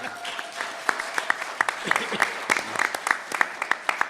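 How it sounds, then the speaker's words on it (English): An audience at a mayoral debate for New York City retirees breaks into steady applause, a moderate wash of many hands clapping with some louder individual claps standing out, continuing throughout. "Give them a round of applause."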